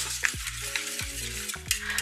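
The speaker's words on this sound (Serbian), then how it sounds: "Mešate non stop i pomalo stiskate." Steady bubbling sizzle of a thick fruit jelly mixture cooking, with three or four sharp scraping strokes of a whisk or utensil against the pot as it is stirred and mashed.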